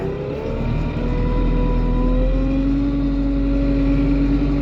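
A Lovol P4110 tractor's diesel engine revs up in sixth gear, a loud, close, steady drone whose pitch climbs and then holds high, no speech.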